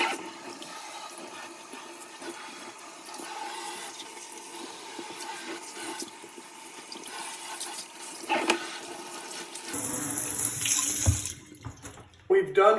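Tap water runs into a sink to rinse it after scrubbing during green cleaning, a steady splashing stream that swells louder and more turbulent near the end, with no talking.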